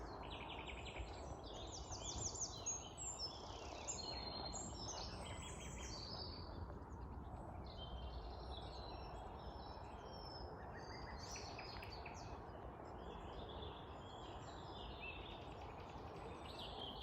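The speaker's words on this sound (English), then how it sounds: "let's just take a minute to take in this bird song" Several wild birds sing and chirp in the open countryside during a great crested newt survey in Essex, their bright phrases overlapping steadily over soft outdoor ambience and faint insect hum, with no talk.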